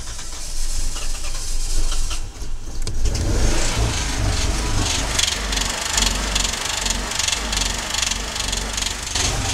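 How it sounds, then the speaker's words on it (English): A 2006 Dodge Grand Caravan cargo van engine idles loudly after a jump start, with a rough, heavy rumble and a steady engine-knock clatter throughout, no talking. "Loud engine knock."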